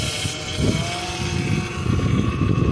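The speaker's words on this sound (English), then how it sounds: "when I spray right here near the throttle body gasket, you can hear the engine change." A car engine idles steadily with a rough, droning hum, and its tone shifts slightly partway through as brake cleaner is sprayed at a vacuum leak near the throttle body gasket.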